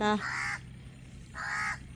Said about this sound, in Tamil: அங்கே பாரு காக்கா வருது பாரு காக்கா